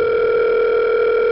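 Steady continuous telephone dial tone, a loud unbroken hum of layered pitches held evenly throughout with no voices.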